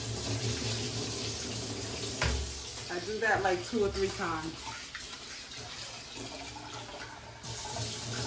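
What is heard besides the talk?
tap water running while washing rice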